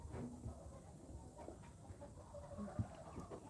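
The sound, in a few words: hen clucking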